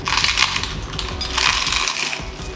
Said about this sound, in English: because they're so thin, it makes it so crunchy